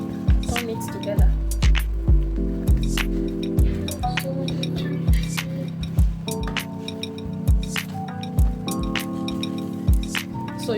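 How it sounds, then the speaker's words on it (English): Farina dough stirred in a pot gives repeated clinks and soft squishy knocks at a steady working rhythm, close and fairly loud, with a voice speaking over it. "You have to keep turning it, mix it together so that everything will combine together."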